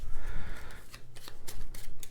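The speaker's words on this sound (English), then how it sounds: "White, I need to shuffle theirs" Deck of board game cards being shuffled during a game of Histrio, a quick run of soft riffling clicks and snaps at close range with no talk over it.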